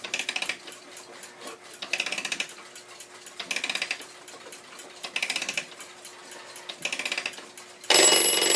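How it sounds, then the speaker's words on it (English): Bursts of rapid mechanical ratcheting clicks repeat about once a second, close up, as the alarm of an 1889 Seth Thomas parlor clock is wound turn by turn. "the alarm, you wind the alarm up this way here"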